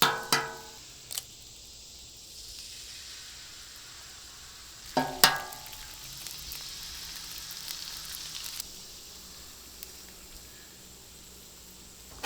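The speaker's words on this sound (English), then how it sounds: "See how that butter's nice and bubbly but not turning brown?" Butter bubbles and sizzles on a hot Blackstone griddle, a soft, steady frying hiss broken by a few sharp clanks and scrapes of a utensil on the metal, with no talk.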